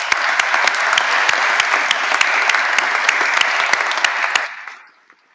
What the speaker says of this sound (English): I'd like to start the first round of applause with congratulations to you all